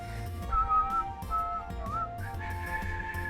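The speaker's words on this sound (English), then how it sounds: "I can't whistle very well." A person whistles a few short melodic phrases over steady background music, the tones rising and sliding at mid pitch, close and moderately loud.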